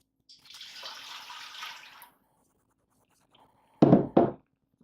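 Spring water is poured into a container for making tea tree soap, a soft steady splash lasting about two seconds, followed after a pause by two sharp, loud knocks close by.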